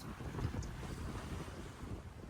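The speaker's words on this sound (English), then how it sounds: "We actually had some pretty strong winds right from the very get-go in the morning" Strong wind buffets a sailboat out on the Mediterranean, a steady roar of rushing air and microphone buffeting over the wash of the sea, loud and continuous throughout.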